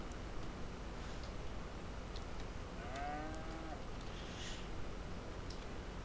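Cattle moo in Farming Simulator 22 on a farm map: one mid-length low moo rises and falls under a steady wash of background noise, with faint ticking and clicks around it.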